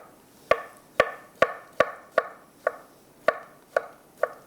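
A sharp knife slicing soft tomatoes on a cutting board, nine crisp evenly spaced chops, close and clear with no talking.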